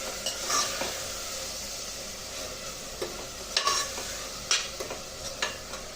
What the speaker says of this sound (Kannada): ಟೊಮಾಟೊ ಎಲ್ಲ ಅಲ್ಲಿ ತನಕ ಫ್ರೈ ಮಾಡೋಣ